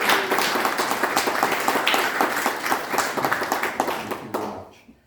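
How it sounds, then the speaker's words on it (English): Audience applause for Paula at a mayor's reception in a room, dense and sustained clapping from a crowd for about four seconds before fading out quickly. "So I'd like a round of applause for Paula."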